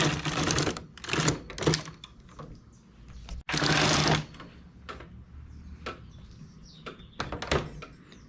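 A knitting machine carriage sweeps back and forth across the needle bed working rows, loud rushing clattery passes alternating with quieter ticks and clicks, close by with no talking.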